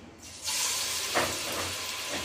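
Mashed olives for a sweet and sour olive pickle hit hot oil with chili, breaking into a loud, steady sizzle that swells after a brief quiet start and holds close and continuous.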